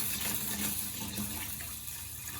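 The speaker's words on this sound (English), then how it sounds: "let's get started washing our rice" Tap water runs steadily into a kitchen sink as rice is washed in a strainer, a soft continuous splashing flow with no talk.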